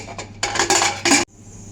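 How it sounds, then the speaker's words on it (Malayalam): A pressure cooker lid is fitted and closed during home cooking of pork and koorka, heard as a cluster of loud metallic clanks and clinks over about a second, ending abruptly before a faint hiss. "അപ്പോൾ കുക്കർ അടയ്ക്കുകയാണ്"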